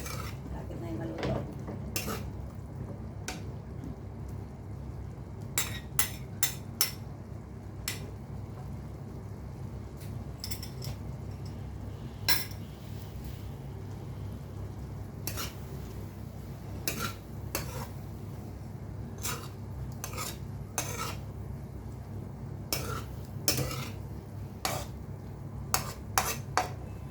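Metal utensil scraping and tapping in a pan while sautéing bitter gourd with egg, frequent clinks in an irregular rhythm over a soft steady kitchen hum.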